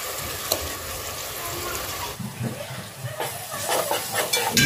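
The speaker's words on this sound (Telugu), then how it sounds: "ఇలా ఎర్రగా వేగిన తర్వాత ఇప్పుడు అల్లం పేస్ట్ అయితే వేసుకున్నాము." Ginger paste for a meat curry sizzles and hisses in a pan, a steady close frying crackle with scraping stirs building toward the end.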